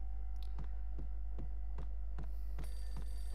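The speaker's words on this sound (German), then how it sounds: "Das Telefon schon wieder." A telephone in the Max Payne video game rings with regular, evenly spaced chirps about every half second over a loud low electrical hum, fairly faint and with no talking.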